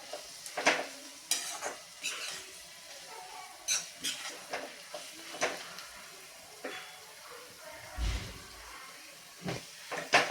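Semolina (rava) dry-roasting on low heat in a pan for sheera, heard as soft, intermittent scraping strokes of a spoon with faint hiss between them, quiet and close, without talk.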